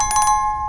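A quick bright bell chime, several rapid metallic dings in a row over a sustained ringing tone, short and clear.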